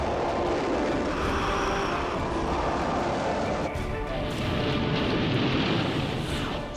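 Dassault Rafale fighter jets roar past with a dense, sustained jet-engine rush that stays loud throughout and swells slightly toward the end. The noise is broadband and continuous, with no voices audible.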